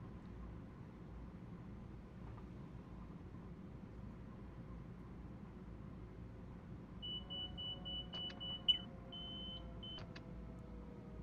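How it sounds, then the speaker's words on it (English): Train cab alarms in a train simulator game of a Long Island Rail Road run toward Penn Station: a quiet engine drone, then two brief electronic beeping alarm tones sound one after another near the end. "Those two alarms right there, the first one was for the forced cab drop to 40"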